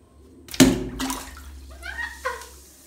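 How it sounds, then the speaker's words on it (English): A Lush Lava Lamp bubble bar fizzing as it is dropped into bath water: a splash followed by a continuous watery fizz and bubbling, close and moderately loud, with no talk over it. "So let's see it fizz."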